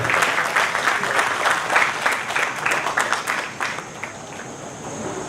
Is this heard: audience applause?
yes